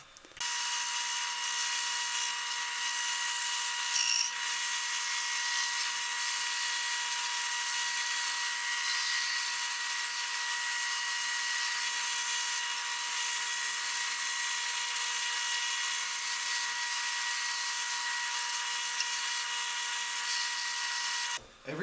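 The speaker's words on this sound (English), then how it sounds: "I have sanding drums for my drill press." A sanding drum on a drill press grinds against wooden pieces of a heart-shaped box, a loud steady high-pitched whir that holds for about twenty seconds with faint rubbing changes as the wood is pressed in, ending abruptly.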